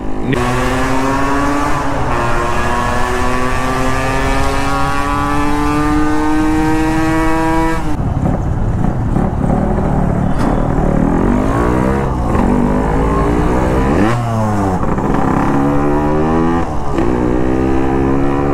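A car called Dulari revs hard and close, its engine pitch climbing in long repeated sweeps, then dropping and surging again in shorter bursts, loud throughout.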